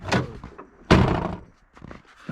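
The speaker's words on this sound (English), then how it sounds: "The door shut fine." Door on a Yamaha YXZ side-by-side with an aftermarket Krash Off-Road cage swung shut, one firm close-up thunk preceded by a lighter knock and followed by small rattles, no talking.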